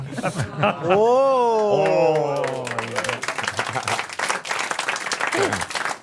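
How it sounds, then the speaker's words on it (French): Studio audience applause on a radio show, rising under loud talk and laughter as several voices speak over it, the clapping continuing as a rough spattering layer in the background. "t'as vu les applaudissements condescendants un peu hein"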